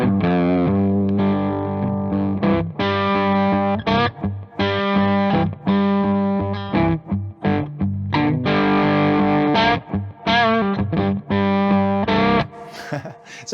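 Electric guitar through a Great Eastern FX Focus Fuzz pedal with a thick overdriven fuzz tone plays sustained chords and riffs with short gaps, loud and alone throughout.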